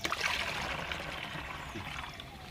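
Liquid for a homemade nannari sarbath drink is poured in a steady, close stream, a continuous trickle that fades slightly toward the end.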